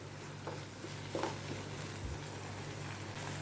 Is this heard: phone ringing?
no